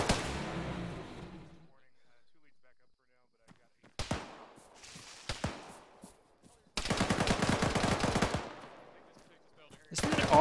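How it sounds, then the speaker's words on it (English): Arma 3 gunfire in a ShackTac squad session: several sharp shots and bursts after a quiet stretch, then a sustained loud volley of automatic fire near the end, with players talking over the action. "I don't know what they're shooting at though, because it sounds close"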